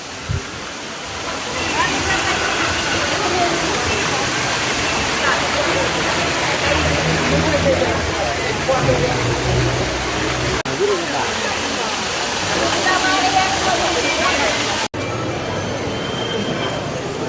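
A waterfall at Wat Pho temple in Bangkok gives a loud, steady rush of falling water that fills the scene without a break, with people talking faintly under it.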